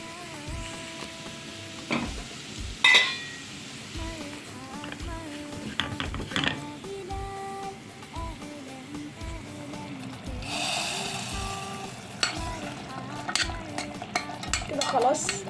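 Chard greens stirred in a frying pan with taro and tomato sauce, giving repeated soft scraping stir strokes and a gentle sizzle, plus a few clinks of utensil against the pan, close by with little talk.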